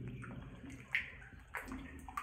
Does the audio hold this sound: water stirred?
yes